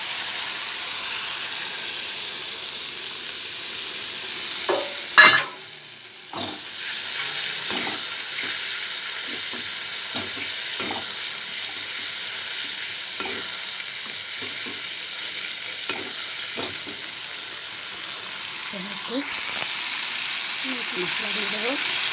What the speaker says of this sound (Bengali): এবার টক দইটা দিয়ে দেবো।